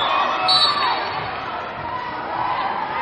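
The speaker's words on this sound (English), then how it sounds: "you can hear the crowd chanting their approval" A crowd at a junior college women's volleyball semifinal cheers and chants in approval after a kill, a loud sustained roar of voices filling the gym, swelling early and then holding steady.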